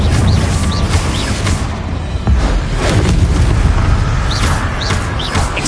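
Confringo fire spell explosions in Hogwarts Legacy, loud booming blasts with rumbling low end and crackling bursts, repeating over a dense, continuous wall of game sound with faint bird-like chirps above.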